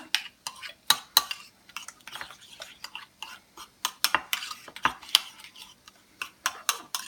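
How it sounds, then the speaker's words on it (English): Spoon clinking and scraping in a bowl while stirring banana and egg waffle batter with a sprinkle of cinnamon, a run of sharp, irregular metallic taps close by. "Give that little stir."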